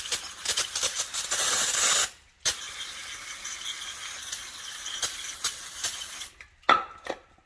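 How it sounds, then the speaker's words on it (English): Sustained hissing spray bursts from an aerosol can of brake cleaner on a quad, a long steady blast then a few shorter sprays, close by with no talking. "Get the brake clean, spray this all down real nice and good"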